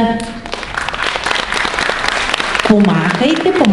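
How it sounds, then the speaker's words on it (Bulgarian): An audience claps steadily for children performers on stage, a dense sustained applause with a voice speaking over it near the end. "Аплодисменти за Неда, Рада, Теодора и Борислава."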